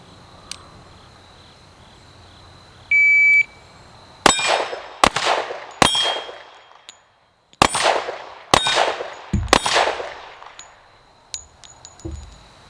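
Six pistol shots fired in a steady string at a shooting range, each a sharp loud crack with ringing decay, evenly spaced over several seconds, with a brief tone and faint clinks before and after.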